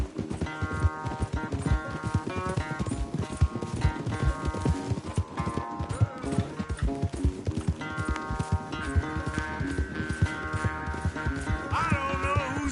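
A horse gallops in Red Dead Redemption 2 with steady, rapid hoofbeats through a long race, heard alongside an ongoing musical score with sustained tones.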